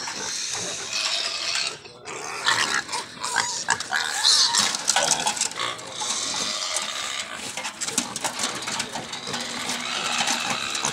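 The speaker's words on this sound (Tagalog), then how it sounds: "Mga mama pig." Sow grunting at a livestock trading spot, heard intermittently amid rattling metallic clatter and background noise, with a brief quiet dip near the start.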